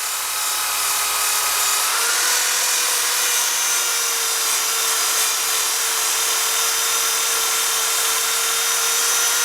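A power tool whirs continuously against a rusty Suzuki GS1100E muffler, stripping off rust in a loud, steady, high-pitched grind that barely changes from start to finish.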